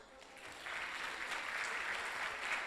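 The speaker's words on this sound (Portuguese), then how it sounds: "Uma salva de palmas" Audience applause after a panel speaker is introduced at a law conference in Lisbon, a dense, steady wash of many hands clapping that swells after a moment and holds loud to the end.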